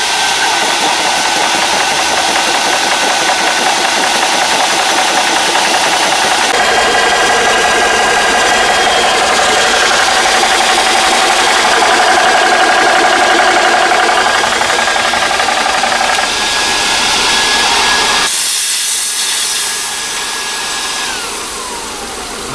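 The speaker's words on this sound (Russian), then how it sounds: "Подсоединяем компрессор. Загудели вентиляторы." Air compressor with its cooling fans running while filling a Daystate Wolverine 2 HP air rifle, a loud, steady droning hum that holds throughout and drops slightly near the end.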